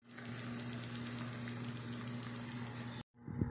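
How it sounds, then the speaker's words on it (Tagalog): Tofu sisig sizzling on a hot plate gives off a steady close hiss of frying fat, then cuts off abruptly near the end, followed by a brief faint clatter. "Sizzling tofu."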